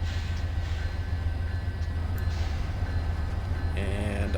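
Metro North commuter train in Train Simulator 2019 starting to pull away from Grand Central after brake release, a steady low rumble and hum with a brief hiss near the end.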